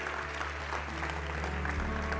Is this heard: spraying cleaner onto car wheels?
no